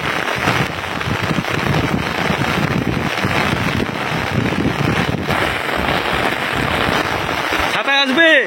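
Super heavy rain falls in a thunderstorm as a loud, dense, unbroken hiss and patter close to the microphone, lasting throughout with a voice breaking in briefly at the very end.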